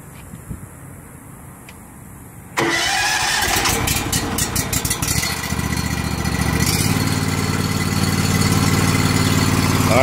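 Gas engine on a pressure washer trailer rated 8 gpm at 3500 psi cranks and catches about a third of the way in, then runs at a steady, loud, even drone through the rest.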